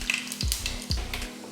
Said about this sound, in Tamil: எண்ணெய் காஞ்சதுமே கொஞ்சம் கடுகு உளுந்து,